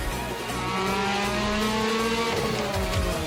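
Cars racing in an Initial D fan film, loud revving engines with shifting pitches over a dense roar, brief tire squeal near the end, no talking.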